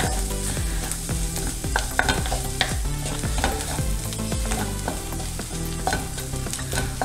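Masala with spices frying in a pan, stirred with steady scraping strokes over a continuous loud sizzle, close up with no voices.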